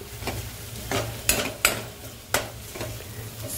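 Tomato added to a hot pan for Kolhapuri chicken curry, giving a steady sizzle and frying hiss with several sharp stirring and spatula scrapes, close and alone.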